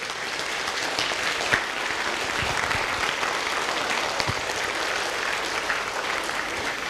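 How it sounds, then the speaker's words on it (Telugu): An audience at a community gathering rises and claps together in a dense, sustained round of applause, loud and steady with no talking over it. "అందరూ ఒక్కసారి పైకి లేసి బిగ్ అప్లాజ్ ఇవ్వాల్సిన కోరుచున్నాను"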